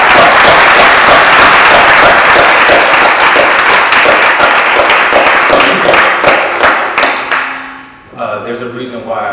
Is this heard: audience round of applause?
yes